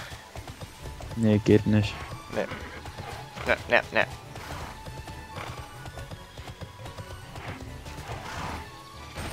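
In the video game Tera, a horse's hooves clip-clop in rhythmic bursts during riding, with a whinny mixed in, while people talk over it.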